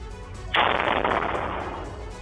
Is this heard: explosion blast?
yes